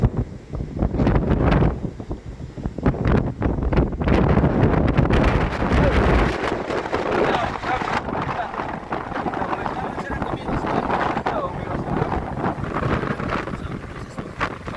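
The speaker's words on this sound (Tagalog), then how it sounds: "Nagagaling doon ang hangin" Strong gusty typhoon wind roars and buffets the microphone, loud and continuous, with rushing, turbulent noise rising and falling throughout.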